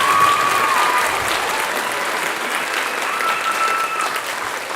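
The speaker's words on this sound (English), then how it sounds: "Let's give everybody a round of applause." A crowd applauds at a middle school spring band and choir concert, with dense, even clapping filling the room for several seconds at a steady, fairly loud level.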